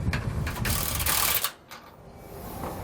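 Ratchet tightening bolts on a Roadmaster rear anti-sway bar under a 2016 Winnebago Sightseer motorhome, a steady run of close mechanical clicking for about a second and a half before dropping to quiet background noise.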